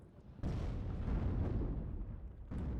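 A barrage of rocket artillery fire in WARNO, a sustained booming roar with a sharp onset and a second launch near the end, heard fairly distant over low rumble.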